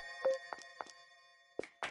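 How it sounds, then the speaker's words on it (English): A game sound effect of an object being dropped in the horror video game Mad Father: a few short, soft thunks spaced apart, fairly faint, with no talk over them. "I drop something."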